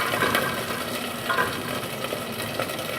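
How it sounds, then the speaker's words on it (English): Organic chicken frying in a pan, a close, steady crackling sizzle with small pops, continuous and alone without talking. "We got our chicken cooking. It's toasting up nice."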